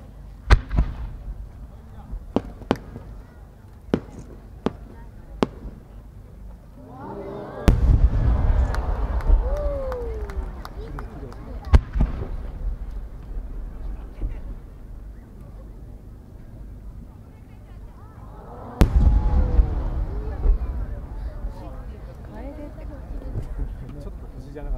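Fireworks at the 2018 Omagari fireworks competition in Japan pop and boom at a distance, scattered sharp cracks followed by two big bursts with crackling tails, alongside crowd noise and voices.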